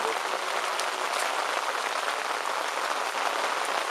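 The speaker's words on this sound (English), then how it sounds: "This rain is ruining it for me." Steady rain patters outdoors around a homemade rocket stove built from a plastic 5-gallon bucket, a dense, even hiss that holds without a break.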